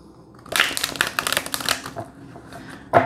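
Tarot cards are shuffled by hand for a horoscope reading, giving a close burst of riffling and slapping card sounds with a few sharp taps, then a brief quieter pause before one last snap.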